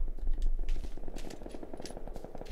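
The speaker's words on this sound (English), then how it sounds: "Ooh, bit of gunfire somewhere" Distant automatic gunfire in the video game PUBG on the Vikendi map, a steady rattling burst of rapid shots running throughout, moderately loud under a low rumbling background.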